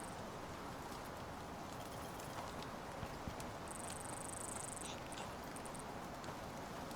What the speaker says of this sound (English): There's a horse over there.